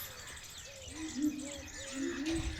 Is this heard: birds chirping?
yes